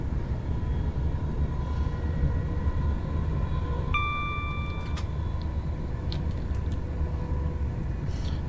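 A Class 390 electric train runs from Wolverhampton to Birmingham New Street in a railway simulator, with a steady rolling rumble and hum throughout and a brief tonal whine in the middle.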